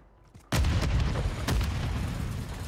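A frag grenade detonates in a Call of Duty Warzone match, a sudden loud boom followed by a sustained rumbling roar and a few sharp secondary cracks.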